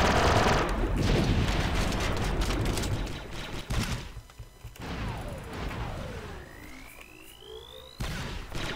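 Rapid bursts of pellet gun fire from the Star Wars: Republic Commando video game, mixed with game explosions and effects. The shooting is dense at first, then thins out, and a rising whine sounds near the end.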